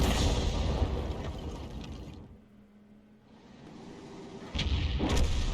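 In a tank video game, a VK tank gun fires a shell with a loud heavy boom, the blast decays into a quiet lull, and then a second sharp report lands near the end.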